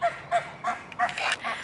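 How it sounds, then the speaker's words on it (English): Geese on a farm honk in a steady series of about five loud, nasal calls, close by and clear, with no talk over them. "And the geese."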